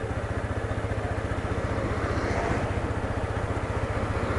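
TVS Apache RTR 160 2V BS6 motorcycle riding in third gear at low speed without throttle, its engine giving a steady close, rapid thumping pulse with even rumble throughout.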